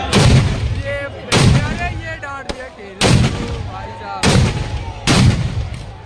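Firecracker bombs burst outdoors at a Ravan effigy burning festival, five loud sharp blasts spaced about a second apart, each ringing out into crowd noise and voices.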